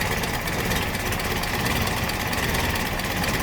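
A Datsun engine idling after an engine bay overhaul, a steady, even running hum at constant loudness throughout, no voices.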